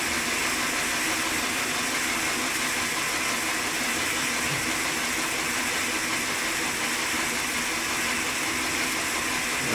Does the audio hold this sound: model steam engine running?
yes